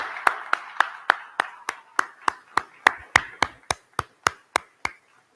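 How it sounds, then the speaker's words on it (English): Slow, evenly spaced claps from a small audience at a special announcement with a minister, about sixteen sharp strikes that sound close and ring out alone. "I love seeing the folks virtually clap."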